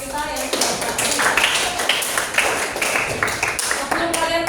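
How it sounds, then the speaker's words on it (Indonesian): Applause from students in a classroom, a cluster of individual claps at close range that runs steadily for several seconds, with voices mixed in. "tepuk tangan buat teman kita yang sudah berhasil"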